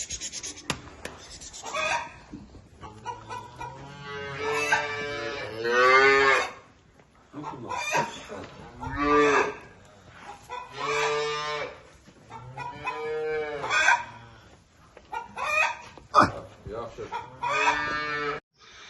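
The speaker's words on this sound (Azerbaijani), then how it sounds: "Bax belə 40 dənə buzovumuz var." Calves mooing at a livestock market in Imisli, Azerbaijan, where about forty calves are held: repeated long, drawn-out moos from several animals, close and loud, following one another with short gaps and no talk.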